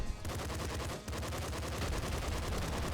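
Rapid SMG fire in the Nuclear Throne video game, a dense, steady stream of fast repeated shots with one brief pause, loud and continuous with no talking.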